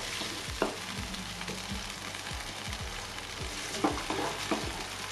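Chicken stir-fry with oyster sauce and sweet soy sauce being stirred in a pan: a steady sizzle with repeated scraping strokes of the spatula, close and moderately loud, no talking.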